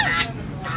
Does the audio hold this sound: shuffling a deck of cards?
no